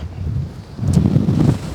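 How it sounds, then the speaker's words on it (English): Gusty wind blows across the Lüderitz speed channel in Namibia, a low rumbling buffeting that swells louder partway through, close to the microphone, with no voices. "It's windy."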